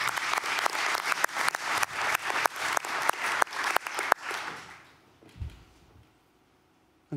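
Loud, sustained audience applause at a conference opening session as a music act takes the stage. It rolls on for about four seconds, thins out, then fades into near silence.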